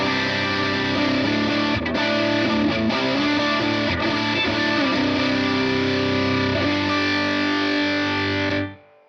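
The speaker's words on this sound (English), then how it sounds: "that's my like heaviest distortion, almost on borderline fuzz" Heavy, saturated electric guitar tone from a distortion pedal at its heaviest, bordering on fuzz, sustained and loud, ringing chords that cut off abruptly near the end.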